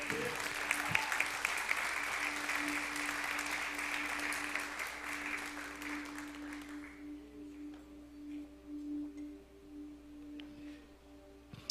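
A church congregation applauds at an evening celebration service, dense clapping filling the first six seconds before dying away into quiet room tone with a faint steady hum.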